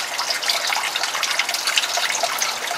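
Water runs steadily from a tap as a broad, constant hiss with a slight splashing texture, close and fairly loud, with no talk over it.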